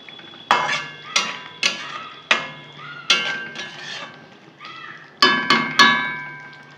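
A utensil stirs potol posto, pointed gourd with poppy seed paste, in oil in a pan. Crisp metallic clinks ring out in irregular groups, loud and close, with short gaps between them.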